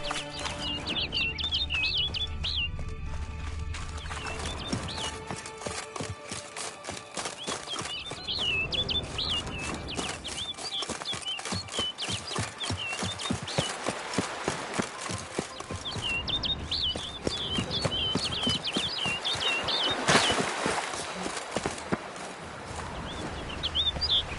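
A video game bird chirps in scattered bursts of high calls, early and again later, over a long stretch of steady rhythmic thumping movement sounds and a low ambient bed.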